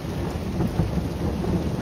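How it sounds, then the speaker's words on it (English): Thunder rumbles low and steady during a storm, with rain hissing on surfaces throughout, a continuous loud wash of sound with no talk. "Oh, that's lightning."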